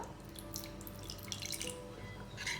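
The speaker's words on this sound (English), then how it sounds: "So just add a little bit of water." Water is added to a Bihari caramelized onion chicken curry mixture, producing soft splashing and dripping sounds close by over a faint steady kitchen hum.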